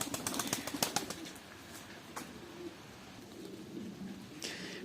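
Soft cooing and fluttering of pet pigeons with their growing chicks, with a few sharp clicks and rustles, no talking.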